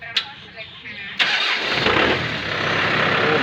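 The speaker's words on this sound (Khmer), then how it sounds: "ចាំមើលខ្ញុំតេស្តម៉ាស៊ីនឲ្យបងប្អូនមើលម៉ាស៊ីនរបស់វា" A 2023 Kubota M6040 tractor engine cranks and catches a little over a second in, then settles into a loud, steady running rumble close by.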